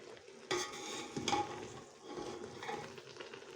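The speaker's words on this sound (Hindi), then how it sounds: "इसको साथ साथ हिलाते रहना है" Grated carrots for carrot halwa fry and sizzle in a pan while being stirred, giving soft scraping strokes and light clinks over a low, steady frying hiss, with no voices.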